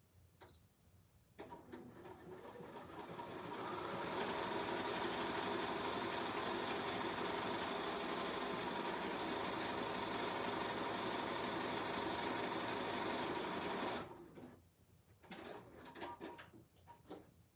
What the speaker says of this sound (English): I'm just going to let the machine stitch the whole thing out by using the stop start button